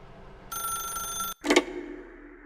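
Telephone ringing in the video game The Stanley Parable, a loud bright electronic ring that lasts about a second, then stops with a short click and a burst of noise as it is answered.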